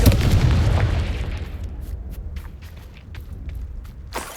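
A fiery Confringo spell explodes in the video game Hogwarts Legacy, a loud deep boom that decays over a couple of seconds into rumbling debris, followed by scattered small pops.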